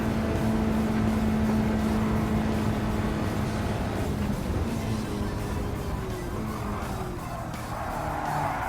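Car engine in Gran Turismo 7 droning steadily at a sluggish, underpowered pace, a continuous loud hum with a faint steady tone and rolling road noise throughout.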